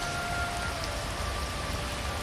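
Steady rain falls in the game Kim, set in 1880s India, as a dense, even hiss of drops on surfaces with no breaks across a couple of seconds.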